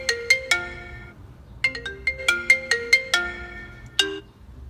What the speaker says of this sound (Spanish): Vamos a ver cómo suena en el apartado del audio este dispositivo.